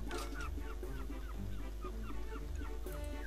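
Repeated honking duck quacks from the game Farm Mania 2 sound up over a steady background hum, several calls in quick irregular succession.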